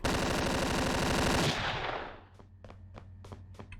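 Assault rifle fire in the 2009 FPS Creator game Decay: a sustained rapid burst of automatic shots, loud and close, that cuts off into a fading echo followed by scattered faint clicks and pops.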